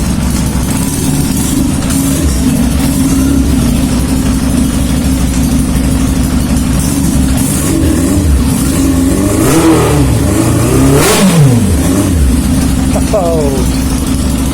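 A cold 1995 Yamaha FZR 1000 motorcycle engine running with no exhaust, loud and close, a harsh steady idle with a few sharp throttle blips rising and falling; a voice speaks over it now and then.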